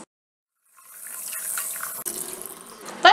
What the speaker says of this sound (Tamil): இது ஃபஸ்ட்டு நீங்கள் நல்லா வாஷ் பண்ணிக்கோங்க தண்ணியில்.